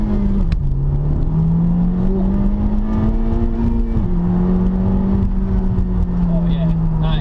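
A 2016 FK2 Honda Civic Type R with a manual gearbox pulls hard, its engine note rising steadily through the revs with a brief dip at a gear change, loud and close from inside the cabin.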